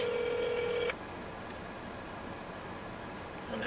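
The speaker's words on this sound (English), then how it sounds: "the phone could stop ringing" A phone line rings during an outgoing call to a business, with a steady electronic tone for about a second, then a hissing line, then the tone returning briefly at the end.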